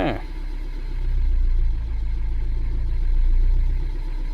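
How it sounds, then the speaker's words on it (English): A Ford Transit MK7 with a 2.2 TDCI diesel engine and a knocking injector revs up, a steady low rumble that swells in two broad rises before easing, loud and close with no talking. "Let's try to throttle up a little."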